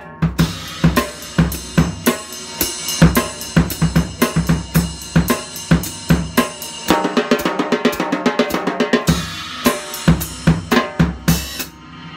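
A drum kit plays a steady groove of crisp kick, snare and hi-hat hits. Denser 16th-note fills roll through the middle and near the end, loud and close with no talking.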